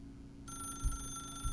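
A telephone bell rings in The Stanley Parable video game, a steady electronic trill that starts after a short quiet lead-in and keeps going at moderate volume.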